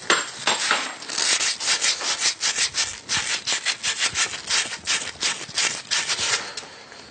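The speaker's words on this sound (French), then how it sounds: "On va couper un bout de tube" A hand saw cuts through a metal pipe clamped at a workbench, a rapid, rhythmic back-and-forth rasp of steady strokes, loud and close with no talk.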